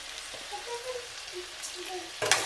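Cauliflower, capsicum, potato and carrot land in a hot frying pan for a village-style veg biryani, giving a soft sizzle with light patters and scrapes, then a brief louder burst of frying near the end.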